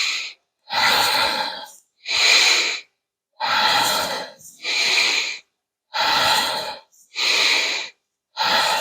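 Forceful, rhythmic breathwork breaths in a steady series of about seven loud, close inhale-exhale bursts separated by short silences, heard alone without talk.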